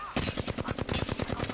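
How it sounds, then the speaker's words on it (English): Rapid automatic gunfire rattles out in a fast, evenly spaced burst of shots during an Apex Legends ranked match, loud and close. "They're shooting at me!"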